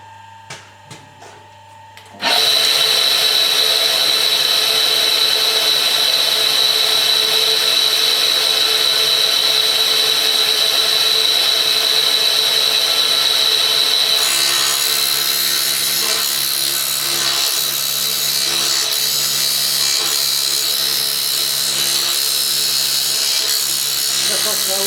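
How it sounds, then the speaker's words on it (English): A cut-off wheel grinds through an extra long milling cutter with a loud, sustained high whine. It starts abruptly after a few quiet seconds of handling, then shifts to a rougher tone partway through and runs continuously. "So I'll give this cut-off wheel another try."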